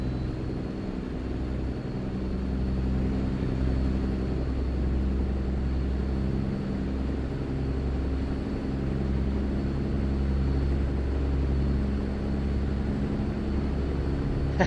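Steady low engine drone of a truck in a video game driving event, a continuous even rumble with no voices over it.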